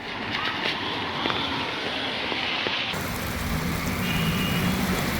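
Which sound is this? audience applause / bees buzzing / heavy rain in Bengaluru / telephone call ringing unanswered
heavy rain in Bengaluru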